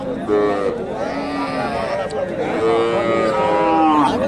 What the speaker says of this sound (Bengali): আর এটা গাভী, গাভীটা জোয়ান